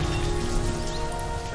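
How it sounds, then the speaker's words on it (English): Spring rain falls in the city-building game Banished, a steady, even hiss of drops with no pauses and no voices. "It's raining because it's spring."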